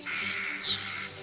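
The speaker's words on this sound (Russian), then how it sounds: "Неутомимое задорное дергание, резкий двусложный крик карастеля знают многие." A corncrake, the crane relative, gives a sharp, rasping two-syllable cry, repeated twice in quick succession, loud and close in an open field with no voices.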